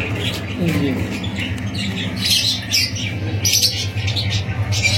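Breeder pairs of caged birds at the Karachi bird market give repeated squawks and chirps over a steady low rumble of market noise, moderately close, with voices talking in the background.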